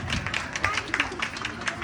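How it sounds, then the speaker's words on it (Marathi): An audience at a dohale jevan baby shower claps together in a dense, lively burst of applause, with a murmur of voices mixed into the crowd sound. "विशाखासाठी आपण जोरदार टाळ्या वाजवूया पुन्हा एकदा"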